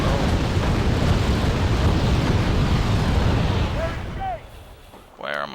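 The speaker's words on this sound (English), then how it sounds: "Oh, and they're firing on my command vehicle." Enemy fire and explosions hammer a command vehicle in the video game Human Stomp, a loud continuous roar of blasts and artillery rumble that fades toward the end, with someone speaking over it.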